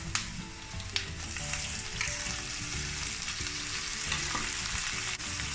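Prawns frying in a pan with garlic and onion for Mangalorean prawn sukka, a loud, dense, continuous sizzle with a few sharp pops and light stirring scrapes, close up and without speech.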